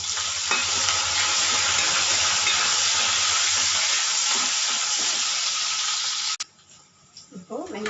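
Curry leaves, coriander and green chilies crackle and sizzle loudly in hot oil for several seconds, a steady dense frying hiss that cuts off abruptly near the end, leaving faint scraping and quieter sizzle.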